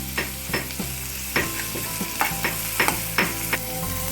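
Curry leaves, onions and crushed garlic stirred while frying in a pan, with a steady sizzle and a series of distinct clinks and scrapes of the spoon against the pan, close and fairly loud, no talking.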